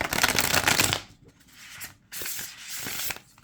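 Serpent and the Peacock tarot cards, standard 70 by 120 mm on smooth cardstock, shuffled in two close, crisp riffling bursts separated by a short quiet pause.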